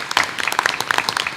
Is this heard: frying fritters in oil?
no